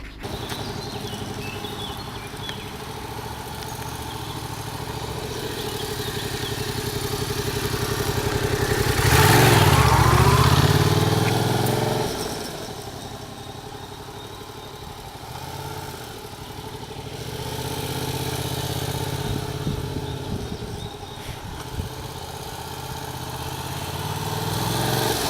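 Yamaha MT-07 motorcycle from 2018, its exhaust silencer tucked under the engine, idling steadily with a smooth low rumble, swelling into a louder rev midway before settling back to a fairly close, continuous idle.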